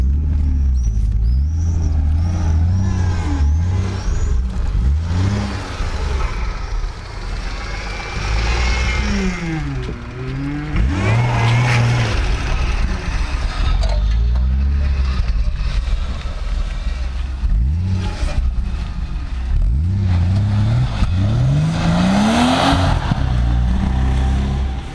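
A BMW E36 starting up after sitting for a year and a half, its engine running loud and steady with rising and falling revs throughout, voices talking over it.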